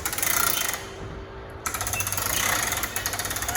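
An RV awning on a 2008 Keystone Cougar 276RLS is drawn out with a hook tool, producing close rattling, ratcheting mechanical clatter in bursts, with a brief pause partway through.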